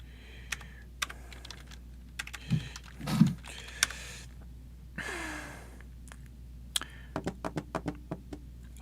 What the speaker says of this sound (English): I'm going to type it in the chat too.